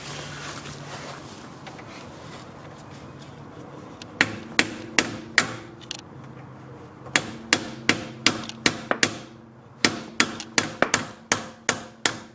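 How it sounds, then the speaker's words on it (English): A hammer strikes an old bolt to drive out a shift linkage pin on a 1991 Honda Civic Si, sounding as sharp metallic blows in quick, irregular bursts over a quiet background. "I hold it with some pliers and I hit it with a hammer"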